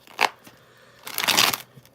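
Cards shuffled during a live stream: a short riffle burst, then a longer crackling riffle about a second long, fairly close and alone.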